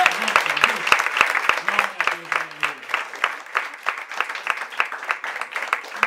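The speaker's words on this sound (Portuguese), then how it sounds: "Vamos saudar o Senhor com uma salva de palmas" A church congregation claps in a rhythmic, evenly spaced beat, sharp distinct claps under voices singing or calling out, continuing steadily throughout.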